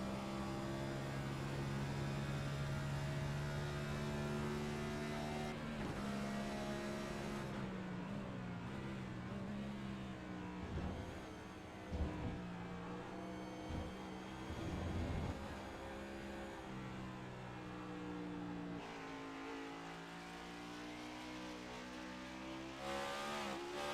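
Race car engine in iRacing at Watkins Glen, revs climbing and dropping through gear changes in a steady, continuous drone, fairly loud and close throughout.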